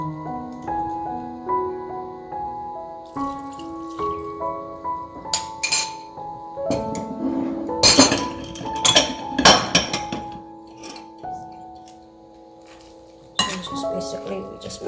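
Spicy potato salad with shredded potato, cucumber strips and bell pepper is mixed with dressing in a bowl, giving irregular clinks and scrapes of utensils against the bowl, with a soft musical backing underneath.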